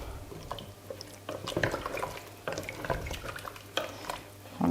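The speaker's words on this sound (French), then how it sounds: "maintenant on va rajouter de l'eau" Water, about a litre, poured into a couscous pot holding vegetables, a continuous close splashing and trickling with small clinks from the pot.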